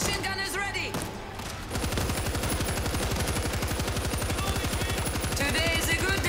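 Machine gun fire in the video game World War Z, Moscow level: after a brief lull, rapid sustained bursts hammer on in a fast, even rhythm, loud and close, with shouting voices at the start.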